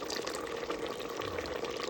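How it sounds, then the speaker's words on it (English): Chicken broth and water being poured into a pot of greens, a steady splashing trickle of liquid at close range with a low murmur of room noise beneath and no clear speech. "I'm about to add the chicken broth and add some water"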